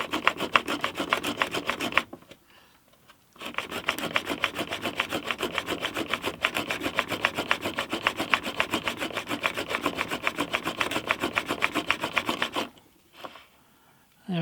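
A chisel is sharpened into a bevel with rapid rhythmic rasping strokes against the abrasive, steady and close, broken by two short pauses.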